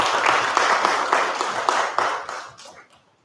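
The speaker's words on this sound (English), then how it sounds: "So can we clap for these partners?" Audience at a public address on street-connected children clapping in a fairly rhythmic, pulsing burst that thins out and fades to silence near the end.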